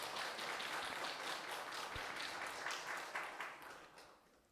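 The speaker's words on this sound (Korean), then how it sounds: "부활의 주님께 영광의 박수 올려드리겠습니다." A church congregation at an Easter Sunday service in Gyeongju applauds together, a dense, steady wash of clapping from many hands that fades out near the end, heard from within the sanctuary.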